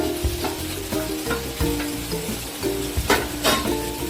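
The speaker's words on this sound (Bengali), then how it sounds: "এবার আমি মশলার মধ্যে ভেজে রাখা আনাজগুলো দিয়ে দিচ্ছি" Fried vegetables being tossed into a sizzling spice masala and stirred, with loud, close frying and repeated clunks and scrapes of the spoon against the pan.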